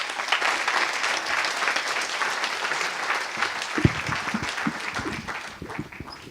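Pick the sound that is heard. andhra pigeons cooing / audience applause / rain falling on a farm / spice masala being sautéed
audience applause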